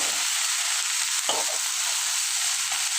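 Cauliflower and potato fry in a small amount of oil with a steady, close hiss and a few soft stirring knocks, with no voices.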